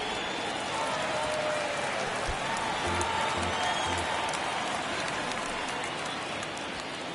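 A baseball stadium crowd in the ninth inning of a one-run game keeps up a steady, dense roar of cheering and clapping, loud and continuous throughout.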